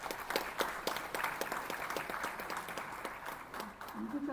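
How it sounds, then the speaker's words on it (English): Audience applause at a World Environment Day event, a steady wash of many hands clapping with sharp individual claps throughout, fairly loud and filling the whole stretch, with no talk over it. "Applause, please."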